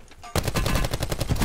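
Rapid automatic gunfire in Call of Duty: Black Ops 4 Blackout, a loud close burst of evenly spaced shots starting abruptly and continuing steadily to the end.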